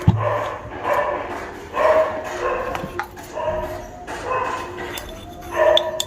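A dog barks and yips in a series of short, moderately distant calls, roughly one every second, over a quiet background during home coffee brewing.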